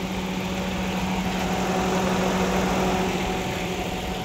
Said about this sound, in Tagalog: umaandar na yung makina natin